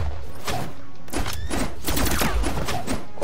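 Rapid gunfire from a Brawlhalla match crackles in dense, overlapping bursts across the whole stretch, punctuated by sharp impacts and low thuds.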